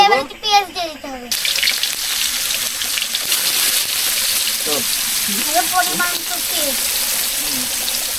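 Onions tipped into hot oil in a village kitchen cooking traditional chicken curry, giving a steady close hiss of sizzling and frying that continues through the clip, with a few brief spoken words early and partway through.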